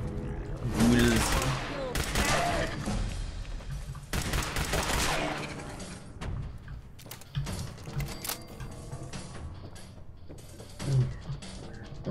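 Gunfire from an oversized pistol in Fallout 4, a few sharp loud shots early on over busy game ambience, with voices talking through the clip.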